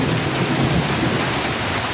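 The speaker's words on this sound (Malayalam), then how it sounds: "ഓ, ഇടി വിട്ടുന്നുണ്ടോ?" Heavy, unseasonal rain pours down in a dense, steady wash as a deep thunder rumble rolls underneath, with no talking.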